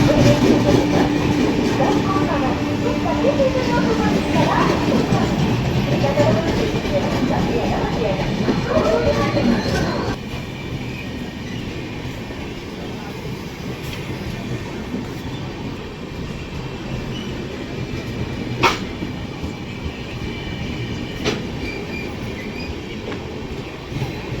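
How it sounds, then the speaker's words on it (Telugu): The Visakhapatnam–Hazur Sahib Nanded Superfast Express roars through Samalkot railway station without stopping, at close range, its rumble and wheel noise dropping off after ten seconds, followed by softer rail sounds. "Visakhapatnam Hazur Sahib Nanded superfast express skipping Samarlakota railway station"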